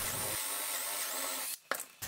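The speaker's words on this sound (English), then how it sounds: "I picked out a drill bit for the eye, then drilled it about where it should go" Drill boring an eye hole in a small wooden intarsia shark, a high steady whine close up for about a second and a half, then stopping with a brief scrape.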